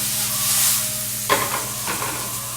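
Garlic in oil gives a close, steady sizzle, with a sudden burst of hissing and stirring noise midway and a second flare shortly after.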